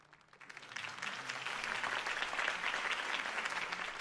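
A crowd's applause in the Batman video game swells from quiet to a steady, dense roar of clapping that continues to the end.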